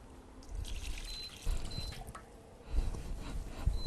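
Sugar syrup for a passion fruit and pineapple drink is poured back into a pot in a few short bursts, with soft splashing and trickling up close.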